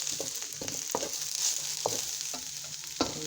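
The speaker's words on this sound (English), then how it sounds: "You're just gonna let it fry until it gets a little soft." Cabbage fries in a pan with a steady, low sizzle, punctuated by occasional scraping knocks of a utensil stirring it, close up and without talk.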